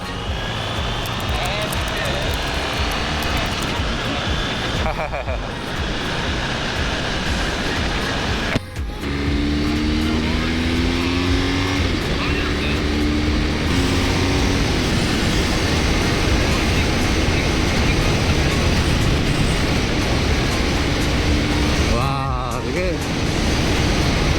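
A BMW R1250RS motorcycle engine drones steadily throughout a ride, with wind rush and rising and falling engine pitch as it shifts.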